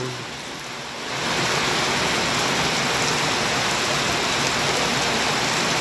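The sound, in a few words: heavy rain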